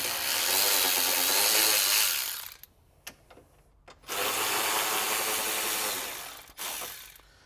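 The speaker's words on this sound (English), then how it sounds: "Okay, 10 millimeter socket. We have two bolts on each side of the fan shroud." Power tool or ratchet on fan shroud bolts of a 1996 Toyota 4Runner, a loud whirring run for about two seconds, a pause with a few clicks, then another sustained whir and a short final burst.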